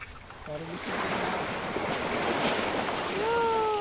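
Steady rushing surf of waves washing ashore on a beach during fishing, loud and continuous, with faint brief voice-like tones near the end.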